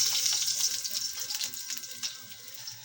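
Chopped garlic fries in a hot pan with a close, continuous hiss and scattered bright crackles of sizzling oil that ease slightly toward the end.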